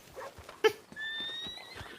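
A horse gives one short, fairly loud neigh, followed by a softer, longer whinny, with faint background noise and no speech.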